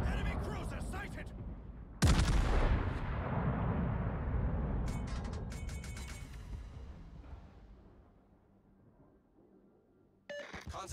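A heavy, booming naval gun salvo from warships in World of Warships erupts and rolls away into a long fading rumble, with crackling bursts of distant shots and a second blast near the end.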